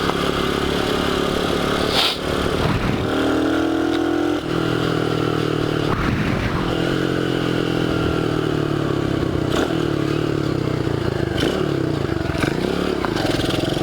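A Dax 125cc motorcycle is ridden and accelerated, its engine loud and close, revving up through repeated rising pulls between gear changes, with mechanical clatter and wind over the steady drone.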